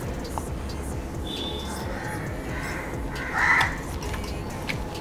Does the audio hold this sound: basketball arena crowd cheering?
no